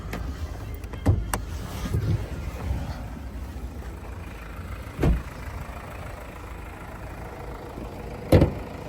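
A 2017 Mazda CX-5 with a 2.2-litre diesel engine and automatic gearbox idles with a steady low rumble, broken by a few short knocks and clunks nearby, with no talk over it.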